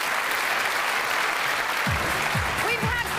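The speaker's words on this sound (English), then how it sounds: "Will you please give us a big round of applause for our two reviewers here?" A studio audience breaks into loud applause at the close of a British television quiz show, a dense, sustained wash of clapping filling the whole stretch, with a brief voice cutting through near the end.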